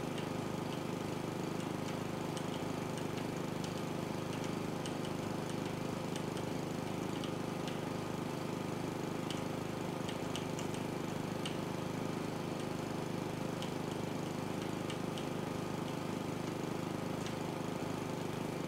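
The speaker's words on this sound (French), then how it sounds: "Quand même plus rapide à tondre que dans l'autre jeu." Lawn mower cutting grass in the House Flipper video game, a steady droning engine hum running continuously and evenly, quiet and without voices.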